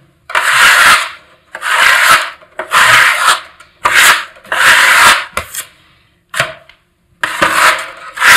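Filler compound is worked by hand onto a damaged brick partition wall in a series of loud, close, rasping scrapes. About eight strokes come in a regular rhythm with short pauses between them.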